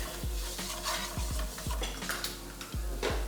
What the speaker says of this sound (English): So we're making our roux. So you want to just keep stirring because you don't want anything to burn.